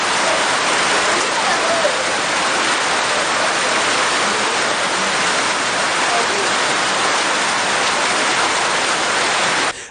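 Heavy tropical downpour in Douala, Cameroon, flooding the Yasa area of the Douala 3 municipality: a dense, steady roar of rain drumming on surfaces, loud and unbroken throughout before cutting off at the very end.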